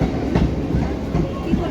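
The Bongaon local train comes in at Barasat station with a rumbling, clattering roar and a few faint rhythmic wheel knocks, heard close and continuous.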